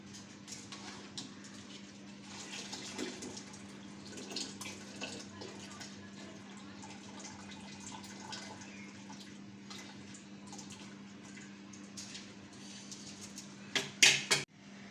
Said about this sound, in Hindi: चावल जब डालें तो उसका पानी बिल्कुल निकाल लें।